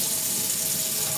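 Steady water stream from a touch-sensor kitchen faucet running into a sink, a continuous broadband hiss close to the mic with no pauses or voices.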